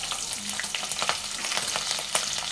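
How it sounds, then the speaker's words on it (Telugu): Two bay leaves and green chillies crackle and spit in hot oil for a chicken masala curry, a dense, continuous sizzle with rapid pops, close and loud, and no talking. "ఆయిల్ అయితే వేడెక్కిపోయింది. ఇంకా ఒక 2 బిర్యానీ ఆకులు వేసుకుందాం. పచ్చిమిర్చి అయితే వేసుకుందాం."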